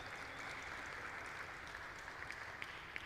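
Quiet, steady applause from an audience at a glassblowing artist's talk, a soft continuous patter of clapping heard from a distance with no voices over it.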